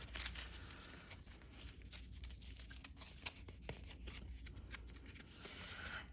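Cards are handled and drawn from a deck, with soft papery riffles and crisp snaps close by over a faint background hiss.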